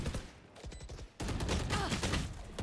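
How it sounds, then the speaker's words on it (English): Swarm grenades from the game Valorant pop in a dense crackling burst of rapid small explosions during an esports match, loud and sustained, followed by a louder flurry. "Standard swarm grenades on the point."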